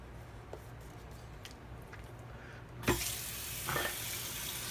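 A tap runs onto dried shaving cream at a sink, starting abruptly after a quiet stretch and continuing as a steady, close hiss of flowing water with a brief splashy surge.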